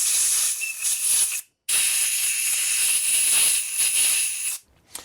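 Brake cleaner sprays in loud, close hissing bursts into the spark plug holes of a Yamaha XJ6 Diversion motorcycle, with two long continuous blasts separated by a brief pause, then a short final spurt.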